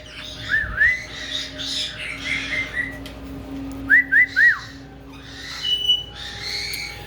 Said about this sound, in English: A very loud bird room today.